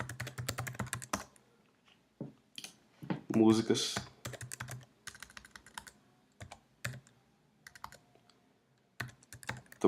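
Clicky keystrokes on a Mac computer keyboard come in scattered bursts, fairly close and moderately loud, with a person speaking Portuguese in the gaps.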